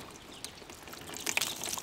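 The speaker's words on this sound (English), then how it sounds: "Make sure that you water all sides of the pot." Faint trickling and splashing of poured water, soft at first and growing a little louder toward the end.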